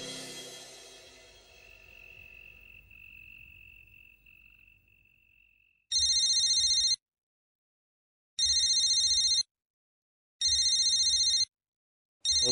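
A phone ringtone sounds in three loud, evenly spaced electronic bursts after a quiet stretch in which a faint steady tone hangs in the air.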